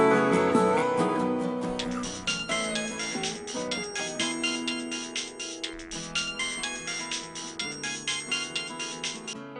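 A mobile phone's ringtone for an incoming call plays a loud, close melodic jingle of chiming notes in a steady repeating rhythm, with no voices.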